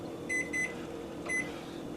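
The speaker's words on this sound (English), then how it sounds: "Let me set my timer" Kitchen timer being set while making rice pudding: two short electronic beeps in quick succession, a pause, then a third beep, moderately loud over a steady low room hum.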